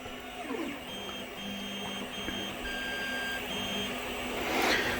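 A Creality 3D printer fitted with an E3D V6/Volcano hot end homes its Z axis, giving a steady whining stepper-motor tone with faint mechanical rattles and a brief louder whir near the end.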